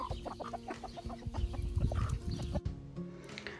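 Chickens cluck in short, irregular bursts close by, several birds overlapping at a low, quiet level with no voices.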